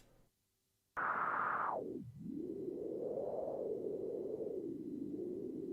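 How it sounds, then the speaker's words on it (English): Synthesized wind from white noise through a resonant filter on a Eurorack modular synth: a steady hiss that sweeps down sharply, then rises and drifts in a slow, breathy whoosh. "Wind is white noise through a filter."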